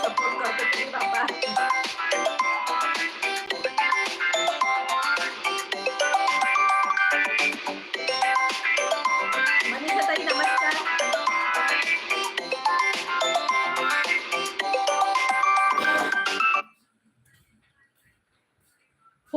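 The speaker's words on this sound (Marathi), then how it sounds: "ऑटोवाल्याचा फोन आला मला" A mobile phone ringtone plays for an incoming call from an auto-rickshaw driver in a home kitchen. The melodic tune rings continuously and steadily for about sixteen seconds, then stops, leaving near silence.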